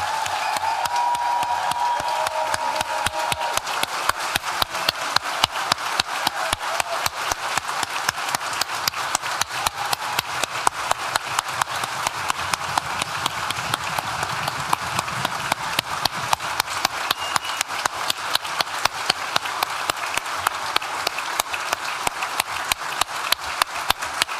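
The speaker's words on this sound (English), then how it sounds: "let's have a really rousing round of applause for this, the class of 2023" A graduation ceremony audience clapping in a steady, even rhythm for the graduating class, sustained for the whole stretch with a faint murmur underneath.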